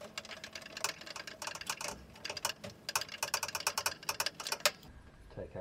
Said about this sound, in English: Take out that screw.